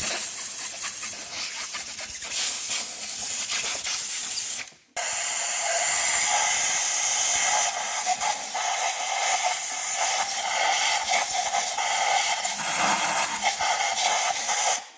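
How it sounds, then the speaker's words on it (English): Compressed air blasts in a long steady hiss while blowing residue off the coil connectors of a 2003 Toyota Corolla engine during an oil leak repair, with a brief cut near five seconds before the rush resumes, loud and close. "Make sure you blow off all the coil connectors."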